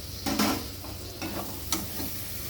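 Chopped tomato sautéing in a pan with a little water for a prawn and elephant foot yam dish, a steady soft sizzle broken by a few stirring scrapes up close.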